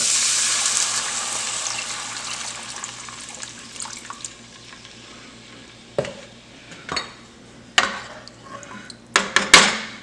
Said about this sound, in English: we're going to add our beef stock in a pot 2 cups of beef stock